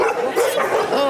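Dogs bark and yip in a short, loud, close burst of overlapping woofs lasting about a second, with a whimpering tone.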